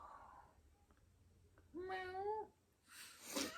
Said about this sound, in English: I got some angry cats in that door